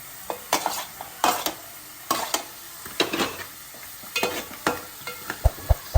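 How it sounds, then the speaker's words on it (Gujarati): Vegetables and green onion sauté in a pan, with a soft sizzle under repeated sharp scrapes and clinks of a spatula, irregular and close, with a few heavier knocks at the end. "અમે બધું પહેલા સોગા કરી દઈએ"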